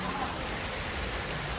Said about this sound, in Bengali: দেখো বন্ধুরা, কত সুন্দর বৃষ্টি হচ্ছে।